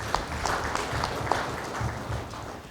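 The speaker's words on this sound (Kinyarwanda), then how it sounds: "ndabasabe mumfashe tumushimire tumukora amashyi" An audience claps together in steady, sustained applause at a formal event in Bujumbura. The clapping is fairly even throughout, and no voices are heard.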